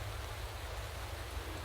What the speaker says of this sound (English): Well, actually, it's raining.